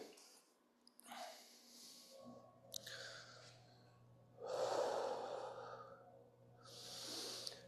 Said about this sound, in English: Exhale as we push, inhale as we pull.